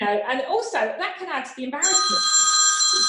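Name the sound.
mobile phone ringing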